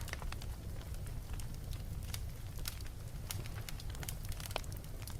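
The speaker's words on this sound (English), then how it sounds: "the occasional crackle of the burning" Burning logs crackle and pop softly and sporadically in a quiet room fire, faint irregular snaps over a low steady hiss, with no talking.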